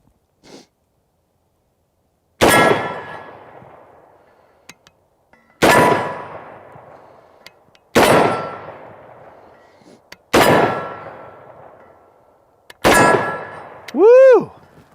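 A Kalashnikov KS-12 shotgun with a cylinder bore fires Nobel ammunition at a target about 25 yards away outdoors. Five loud, sharp blasts ring out at roughly two-second intervals, each trailing off in a ringing decay, followed by a short whistling tone.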